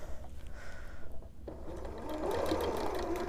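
A sewing machine chain-sews stacked quilt pieces, a fast, steady mechanical whirring and clatter that pauses briefly and then resumes, close and moderately quiet.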